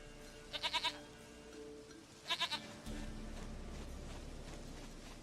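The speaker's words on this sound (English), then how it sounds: "Goat of mine, dearest, sweetest goat." A goat in The Witcher 3 gives two short, rapid bleats, each a quick trembling burst of a few pulses, heard fairly close over a low ambient hum.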